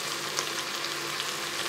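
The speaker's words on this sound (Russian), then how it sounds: "мясо вместе с луком обжаривалось еще 5-6 минут" Pork and onion fry in a multicooker bowl, giving a dense, steady sizzle and crackle that stays even throughout with no talking.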